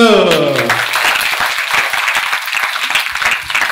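Applause breaks out at a talk right after a speaker finishes describing a book, dense steady clapping that stays loud for several seconds, with a trailing voice fading at the start.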